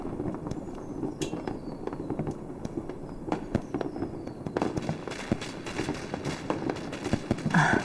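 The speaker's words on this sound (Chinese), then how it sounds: "放鞭炮去喽。" Strings of firecrackers crackle and pop continuously in the distance for New Year's Eve, a dense rapid rattle of small bangs throughout.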